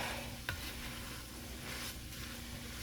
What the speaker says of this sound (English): going to give this a good mix up, incorporate a little bit